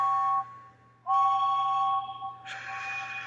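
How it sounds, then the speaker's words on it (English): A steam locomotive whistle gives two steady tonal blasts with a short gap between them, followed by a brighter, higher whistle tone that holds to the end, with no talking. "James blew his whistle."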